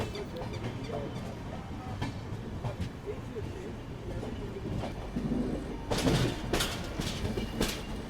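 A train hauled by imported Ghaziabad shed locomotive 3002 rumbles steadily with wheel clatter and a louder rush of passing noise near the end, while people talk faintly in the background.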